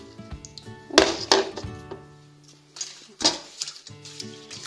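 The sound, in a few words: ivy leaves put into a saucepan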